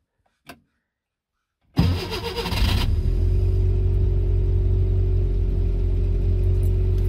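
A Škoda 1000MB engine is cranked after a short click and a pause, then catches and settles into a steady, close, rumbling idle that continues to the end.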